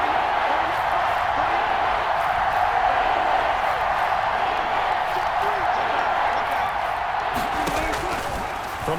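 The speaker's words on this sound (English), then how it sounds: "Crowd getting in it a bit already." Stadium crowd cheering in the Madden NFL 21 video game, a steady, loud roar of many voices that holds through the whole stretch, with a slight swell near the end.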